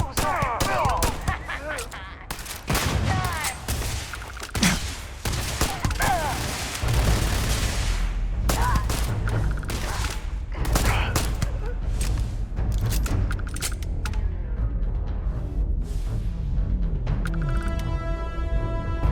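Gunfire and explosions in the Starfield space RPG, a dense run of sharp shots and heavy booms crowding together, loud and close, with other game effects and a brief electronic tone near the end.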